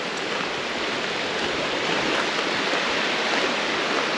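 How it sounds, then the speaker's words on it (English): Calm lake waves lap on a sandy shore at a campsite, a steady, even wash of water filling the whole stretch without pause. "the sound of the waves is even getting calmer"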